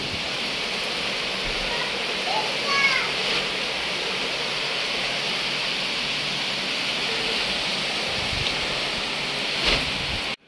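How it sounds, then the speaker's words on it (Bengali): Cyclone storm wind near a seashore roaring steadily and loudly, a constant broadband rush with occasional gusts and a faint high squeak partway through. "ভয়াবহ শব্দ করে, ঠিক এরকম শব্দ করতেছে বাতাস"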